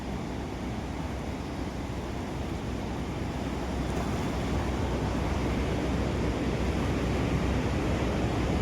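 Water pours through two open gates of the 24-gate Hippargi barrage near Jamkhandi, a steady, loud rushing roar that holds unbroken throughout.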